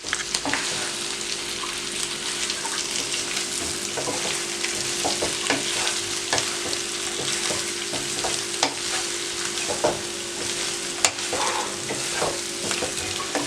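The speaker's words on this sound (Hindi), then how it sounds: "चम्मच आपने मसलसल चलाना है।" Chicken tikka pieces fry in a pan with a steady, dense sizzle while a spoon keeps stirring them, scraping and clinking softly throughout at close range.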